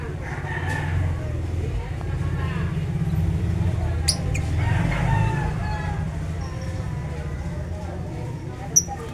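Pet chickens and roosters crow and cluck at moderate distance over a steady low outdoor rumble, with a sharp squawk near the end.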